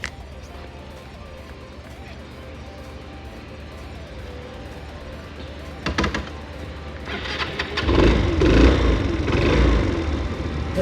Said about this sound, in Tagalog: papaanda rin namin yung motor po para mapakinggan nyo